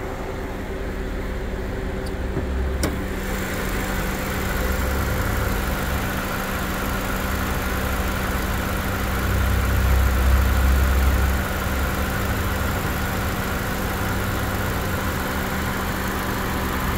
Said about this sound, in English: Let's see how the engine sounds.